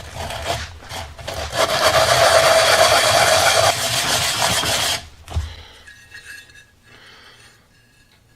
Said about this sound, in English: We're going to start off with some medium sandpaper.